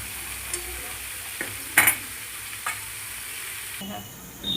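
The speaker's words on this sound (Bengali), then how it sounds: "ভালো করে ভেজে নেব" Potatoes and pointed gourd fry in a pan for a vegetarian curry. A loud, steady sizzle carries through, with a few sharp spatula scrapes and stirs, up close and with no voices.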